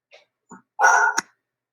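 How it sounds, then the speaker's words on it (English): Pet dogs indoors going crazy, a few short soft yips followed by one louder, longer bark-like yelp ending abruptly, close to the microphone with no talking. "my dogs are going crazy"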